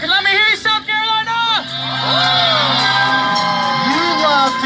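A monster truck show crowd in Aiken, South Carolina, cheers, shouts and whoops loudly and continuously, a dense roar of voices rising into sustained yelling after a brief lull.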